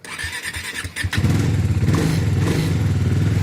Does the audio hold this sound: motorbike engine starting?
yes